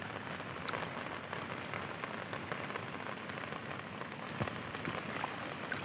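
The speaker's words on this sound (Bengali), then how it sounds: "এখনও প্রচুর ভারী বৃষ্টি দিচ্ছে।" Heavy rain falls steadily on farm fields in Purulia where sown seed has rotted after days of downpour. It makes a dense, continuous hiss with occasional nearer drop taps and no voices.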